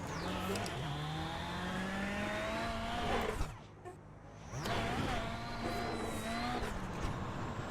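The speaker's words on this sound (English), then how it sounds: "I kind of overdid it there. See me sliding way out." VW Beetle in the iRacing game on the Iowa rallycross track, with engine drone rising and falling through gear shifts and tires scrubbing as the car slides wide, with a brief lull mid-clip and someone talking over it.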